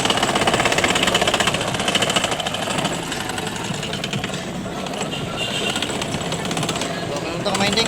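The motor of a Whirlpool LPS680GR automatic washing machine spins under repair, giving a loud, steady rattling hum with fast pulsing texture that eases slightly after the first few seconds, close to the mic.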